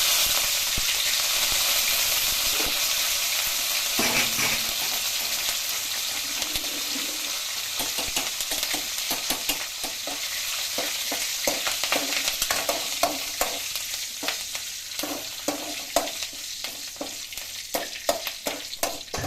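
Shallots and curry leaves fry in hot oil in a pot for an ash gourd curry, giving a steady close sizzle that later breaks into rapid clicking spatters and crackles, with no talk.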